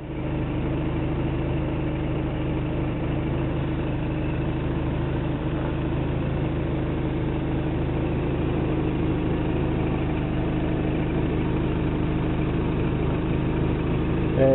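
A Toyota 22RE four-cylinder engine idles at a steady, even drone from start to finish, close and fairly loud with no voices; the start itself is not clearly heard.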